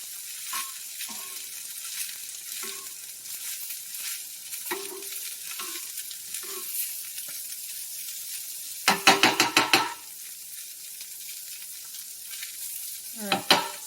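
Steak sears in a small pan, giving a soft continuous sizzle with a few louder bursts of crackling, close by and otherwise alone.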